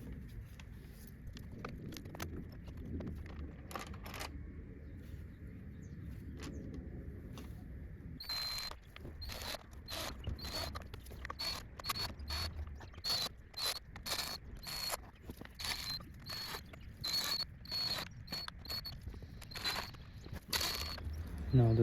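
Valve cover being set back onto a BMW M47 diesel engine after gasket cleaning, giving a run of close, sharp metallic clicks and clunks with light rattling, irregular and steady throughout, no talking.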